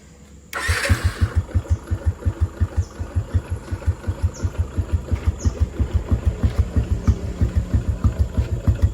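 An old Yamaha Jupiter MX motorcycle fitted with a Satria FU exhaust fires up and then settles into a steady, loud, evenly thumping idle that continues throughout.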